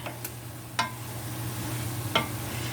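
Vegetables for a yellow split pea soup are stirred in a pan, giving a few sharp scraping strokes over a steady low hum and a soft, faint sizzle; no one speaks.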